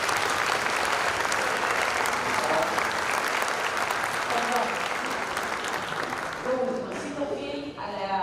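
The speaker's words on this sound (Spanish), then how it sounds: "Denle un fuerte aplauso" Sustained audience applause fills a conference hall after a talk at a symposium, a dense, loud wash of many hands that thins toward the end as a voice begins speaking over it.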